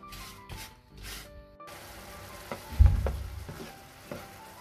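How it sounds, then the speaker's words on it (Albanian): Apples caramelizing in margarine and sugar in a pan over medium heat, a steady close sizzle with soft stirring scrapes and a few louder bursts partway through. "Në temperaturë mesatare do presim kështu 3-4 minuta, derisa të fitoj një ngjyrë të mirë mollët të karamelizohen."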